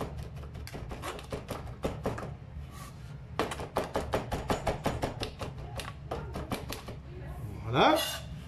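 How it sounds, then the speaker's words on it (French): Ingredients for a chicken tagine are chopped with a knife on a board in rapid rhythmic bursts of close, crisp knocks, and a short scrape comes near the end as the pieces are gathered. "on hache grosso modo"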